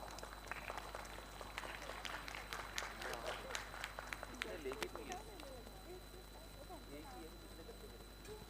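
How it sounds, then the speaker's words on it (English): An audience at a medical summit on hemophilia and thalassemia gives a round of applause, with dense clapping that peaks early and then thins out, while a voice speaks over it. "A huge round of applause, please."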